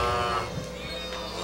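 Group of children at a vacation Bible school imitating a cow's moo together, a loud, sustained chorus of voiced lowing with no other sounds.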